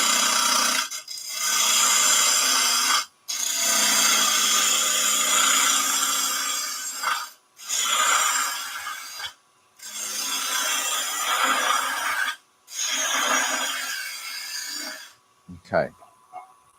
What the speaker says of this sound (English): Turn the lathe on. And let's go with our small 1/4" bowl gouge. We'll rough down to a nice cylinder first.